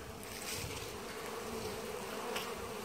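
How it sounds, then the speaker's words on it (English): Honeybees hum in a dense, steady drone at a busy hive as foragers haul in heavy loads of pollen, close to the listener, with no voices. "We just came over and found the bees all going crazy."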